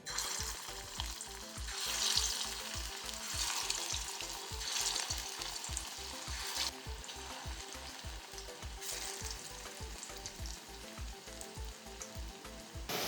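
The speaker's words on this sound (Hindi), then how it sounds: "अब एक एक करके हम लोग इन कोफ्तों को इसमें डाल देंगे।" Bottle gourd koftas frying in hot oil, a steady, busy sizzle and crackle that runs continuously without a break and holds at a moderate, close level.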